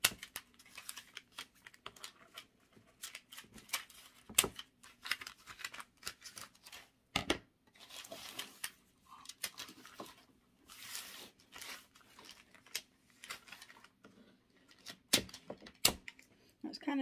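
Scissors snipping through wired foil ribbon strips for a DIY Christmas tree craft: scattered crisp cuts and crinkly crunches at an irregular pace, close and fairly quiet, with a few louder snips.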